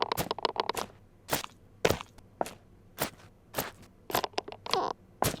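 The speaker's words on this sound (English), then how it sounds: "the footstep sounds change." Game footsteps in FMOD and Unreal 4 shift from one surface to another: crunchy steps at first, quick and uneven, then a slower run of sharper, harder thuds, all close and alone.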